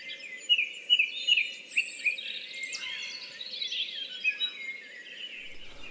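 Birds singing in a dawn chorus outdoors at the Glebe Gallery, with several chirps and short song phrases over a steady, faint background of layered birdsong.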